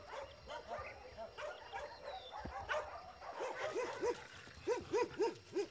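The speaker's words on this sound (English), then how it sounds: "we have about 400 dogs here living loose." Many of some 400 stray dogs living loose at an open shelter on a large plot of land bark repeatedly, near and far, with overlapping yips and whimpers that grow louder and denser toward the end.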